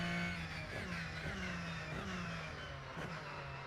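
A Porsche in the Rennsport racing video game drives under load, its engine hum carrying a thin steady gearbox whine that slowly dips and rises, faint and continuous with no talking.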